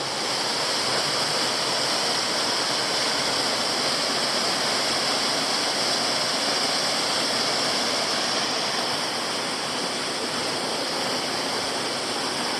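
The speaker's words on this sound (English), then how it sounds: "it's really a beautiful waterfall" A waterfall on West Canungra Creek, Queensland, roars steadily and continuously, a dense, unbroken rush of falling water close by with no other sounds.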